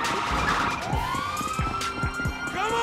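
A police car siren in the video game GTA 5 wails in a rising, sweeping tone, loud and close, over repeated low thumps and game noise, with no talking.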